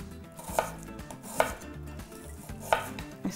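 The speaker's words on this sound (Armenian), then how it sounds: "սենց կիսալուսնաձև պետքա կտրատենք հարակի վրա" Red onion sliced into half-moons with a knife on a cutting board for a nectarine salad: three crisp, evenly spaced chopping strikes, close and clear, with no talking.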